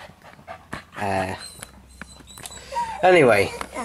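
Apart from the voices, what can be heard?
dog whining and panting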